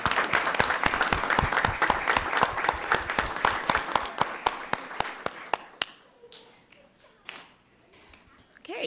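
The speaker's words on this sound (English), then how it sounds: "Let's give them one more round of applause." Applause at a board of directors meeting, a small group clapping in brisk distinct claps that thin out and stop near the six-second mark, followed by quiet room tone and a brief voice.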